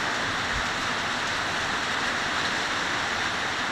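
Steady, dense rainfall in Kampot, Cambodia, hissing continuously on surfaces, even and unbroken, with no voices.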